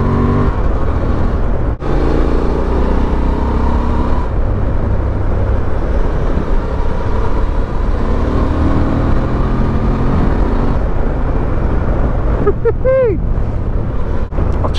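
A Honda Transalp XL750 motorcycle accelerates in sport mode, its engine drone running steadily beneath heavy, roaring wind buffeting on the rider's microphone from start to finish.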